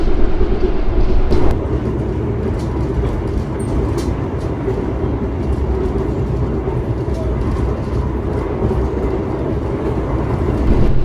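Wijaya Kusuma executive passenger train rolling on rails, a steady loud low rumble heard from inside the carriage, with a brief sharper jolt near the start.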